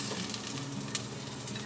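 Chicken added to a pan of well-fried caramelized onion gives a soft, steady sizzle, with faint stirring scrapes and one brief sharper crackle.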